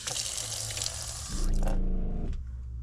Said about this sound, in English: I've got running cold water.